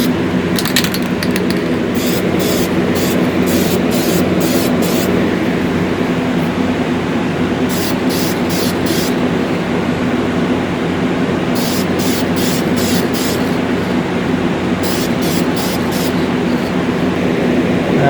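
A spray paint can lays a second coat on a 1:64 scale diecast Camaro ZL1 in short hissing bursts, four clusters of quick sprays over a steady low background hum.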